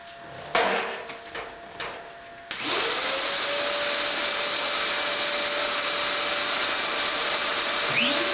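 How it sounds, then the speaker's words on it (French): A shop vacuum in a woodworking shop follows a few knocks and handling sounds, then switches on and runs as a loud, steady whine and rush until the end. "je branche ma shop-vac dessus"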